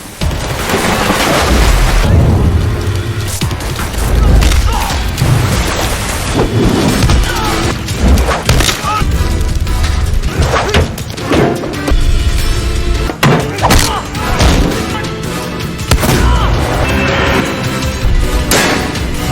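Film explosions boom and rumble in heavy, repeated bursts, with deep roaring blasts and crackling debris that rise and fall over a long, loud stretch.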